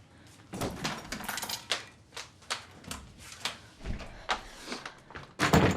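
A door closes and its lock is worked, giving a string of sharp clicks and knocks at an uneven pace that ends in a louder, fuller clatter, with no speech.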